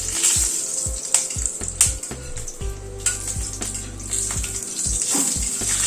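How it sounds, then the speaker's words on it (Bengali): Whole spices and peppercorns crackle in hot oil, with sharp irregular pops and snaps over a soft, steady sizzle, close and fairly quiet. "ফোড়নটাকে একটু ক্র্যাক করিয়ে নিচ্ছি"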